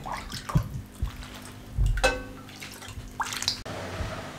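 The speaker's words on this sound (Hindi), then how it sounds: "ये जो शोरबा तैयार हुआ था सोबत के लिए, ये इसमें डाल दें।" Broth (shorba) is poured over crumbled bread for the traditional sobat dish, with soft intermittent splashes and trickles close by, a couple of small clinks, and quiet stretches between pours.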